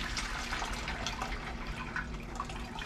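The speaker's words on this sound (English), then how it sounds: "put some hot boiling water in it." Hot boiling water poured into a bowl for making chicken broth, a steady splashing pour with light dripping and gurgling, close and fairly quiet, without speech.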